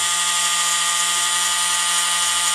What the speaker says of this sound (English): This is pretty coarse sandpaper on here. This is 80 grit.